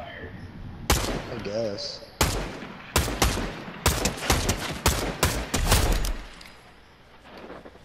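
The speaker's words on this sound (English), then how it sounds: "There's gunfire." Bursts of gunfire in the video game Fortnite: a sharp single shot, then rapid strings of loud, close cracks in clustered volleys, with a brief spoken remark and quieter game sounds between and after the shots.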